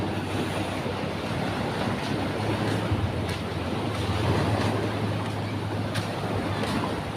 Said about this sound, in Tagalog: Lakas ang agos sa palabas sa dagat.